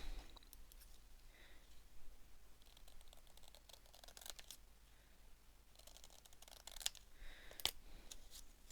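Scissors snip through paper as small images are cut out carelessly, giving faint, irregular clicks and crisp snips, quiet and close, with no voice.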